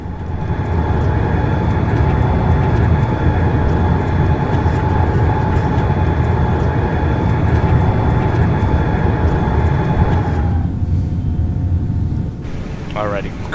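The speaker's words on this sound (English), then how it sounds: "One thing I do like about the sound pack is the noise of the sounds of the flaps" Flaps on a ToLiss A339 in X-Plane 12 with the Mango Sound Pack extend to 1+F with a steady mechanical whine over constant engine and cabin rumble. The whine cuts off after about ten seconds, leaving quieter hum.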